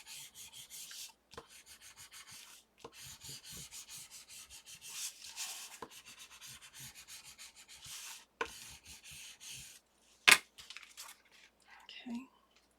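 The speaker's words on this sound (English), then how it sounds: "I'm just going to go ahead and burnish those stitches down." A tool is rubbed firmly over sewn stitches on a handmade sewing folio, giving close, repeated scraping strokes in bursts with short pauses and one sharp click near the end.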